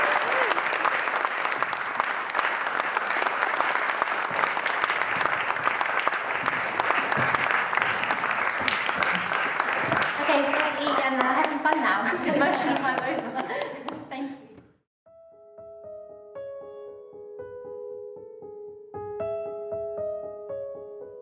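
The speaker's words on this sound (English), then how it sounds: "I just wanted to give him a bit of love and a round of applause" Wedding guests break into a sustained round of applause, dense and loud clapping from a crowd for about fourteen seconds that fades out, followed by soft music.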